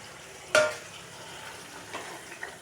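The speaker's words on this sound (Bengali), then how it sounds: "এই যে ভেন্ডি ফ্রাই করে রাখছি" Okra (bhindi) frying in a pan: a soft, low sizzle marked by one sharp metallic clink of a utensil against the pan, then faint scrapes, close and quiet.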